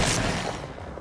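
A Remington 870 pump shotgun fired in a zombie virtual-reality video game: a single loud, close blast that decays over about a second.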